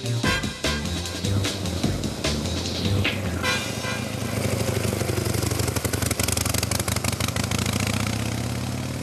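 Vintage 1915 Indian 1000cc V-twin American motorcycle with an American sidecar, engine running loud and close with a steady rough rhythm, a brief horn-like toot near the start, no talking.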